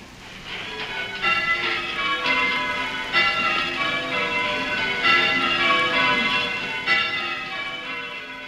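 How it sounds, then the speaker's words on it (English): The church bells of St Hilary ring in a 1926 recording, their overlapping metallic tones sounding continuously in a steady peal that swells and fades across the clip. "And now listen to the bells, which for 500 years have called the people of St Hilary to praise and prayer."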